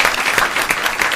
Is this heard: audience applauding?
yes